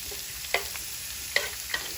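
Vegetables sizzle in heated olive oil in a pan, a soft steady frying hiss with a few faint clicks of stirring.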